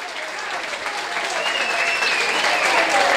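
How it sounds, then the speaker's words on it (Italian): Steady crowd applause at a football match as a player is substituted off, dense clapping that swells slightly louder toward the end. "va a rilevare Conversi che esce tra gli applausi"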